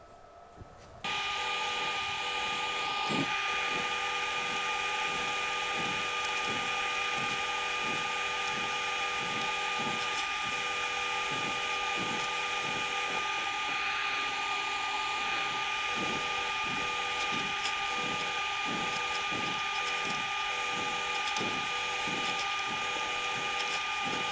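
A compressed-air spray gun hisses steadily and loudly while painting parts for a Bachmann Class 37 model diesel locomotive, with a continuous airy rush and faint rhythmic ticking underneath throughout.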